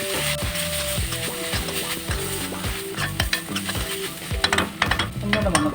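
Garlic sizzling in a hot pan while being stirred for a prawn dish, a steady loud fry with repeated scraping strokes and clinks of the spoon against the pan.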